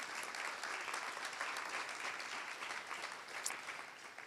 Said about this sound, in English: So I'd like to give Keyflow a round of applause before we start for coming on board.